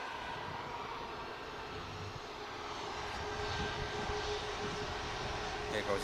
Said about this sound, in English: There goes the Corendon. Aircraft heading to Antalya.